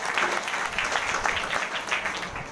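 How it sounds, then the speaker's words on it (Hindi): An audience applauding at a success-story speaking event, a dense, steady patter of many hands clapping at once, lively and close, sustained throughout with no one talking. "जोरदार तालियां मैडम के लिए।"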